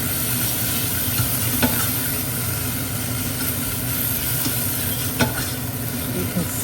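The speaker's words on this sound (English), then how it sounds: "I'm going to fry that, add it back onto the heat, and fry it down" Tomato paste fries with spices in a preheated pan for Indian kidney bean curry, a loud, close, steady sizzle with a low hum beneath and occasional scraping stirs and clicks.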